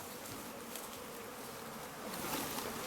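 Honeybees buzzing during a hive transfer done for health reasons, a dense, steady hum of many insects that swells slightly near the end, faint and with no voices.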